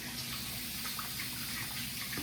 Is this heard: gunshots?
no